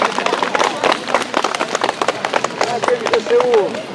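An outdoor audience at a choir concert on a lake claps warmly, with dense, continuous applause and a voice heard briefly near the end.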